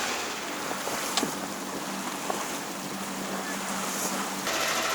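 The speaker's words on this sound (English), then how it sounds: "Motor sailing through the bar." Sailboat motor sailing out through a harbour bar, a steady engine drone mixed with wind buffeting the microphone and rushing water, constant and fairly loud throughout with no voices.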